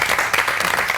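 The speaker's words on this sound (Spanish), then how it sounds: "Se pide un aplauso para Pilar." Audience applause in a television studio, a dense burst of many hands clapping at close range, loud and continuous through the short moment.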